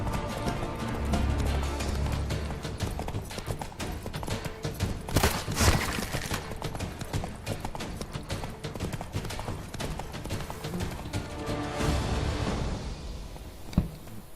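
Roach the horse galloping in The Witcher 3, steady rapid clip-clop of hooves running throughout, with a brief whinny, loud and close over a busy game soundscape.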